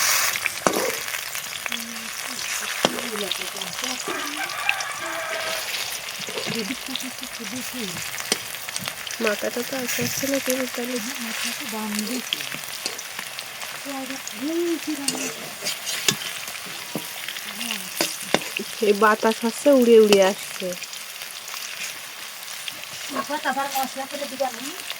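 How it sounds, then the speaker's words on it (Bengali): Potatoes fry in oil with a continuous sizzle and occasional stirring, while people talk nearby over the cooking for most of the stretch. "দেখো এবার আলুটা ভাজা করতে দিয়েছি"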